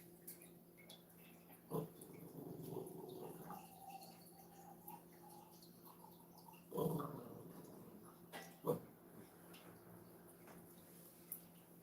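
A dog gives low growls in short bursts, moderately close, with quiet indoor background and occasional thumps.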